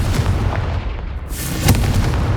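Confringo spell explosion in the video game Hogwarts Legacy, a loud, booming blast with a sharp crack, followed by a rumbling, noisy tail that stays strong to the end.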